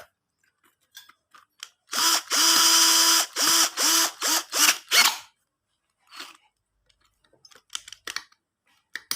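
An impact driver whirs in several short bursts while fastening bolts on a lawn mower/brush cutter, rising and stopping in a quick series, followed by quieter clicks and handling noises.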